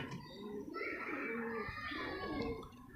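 Pigeons cooing at a loft, soft low murmuring calls close by, mixed with faint rustling and quiet background noise.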